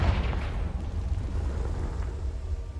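A Confringo spell blast in Hogwarts Legacy erupts as a loud, rumbling explosive roar that fills the clip steadily with a dense, noisy wash and deep low boom, with no speech.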